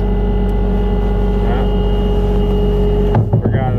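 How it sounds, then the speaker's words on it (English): A skid-steer loader's engine runs at a steady, loud idle drone, then a sharp clunk and rattle near the end as its parking brake is released. "let me go on and take this parking brake off"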